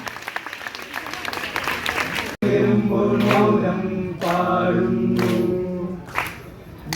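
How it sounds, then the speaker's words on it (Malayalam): Applause from a crowd opens a college Onam celebration, a dense wash of clapping sustained for several seconds after a brief gap, loud and close, with music and singing starting underneath. "ഈ ആഘോഷവേളയ്ക്ക് ഏവരെയും ഹാർദവുമായി നല്ലൊരു കയ്യടിയോടെ നമുക്ക് ആരംഭിക്കാം"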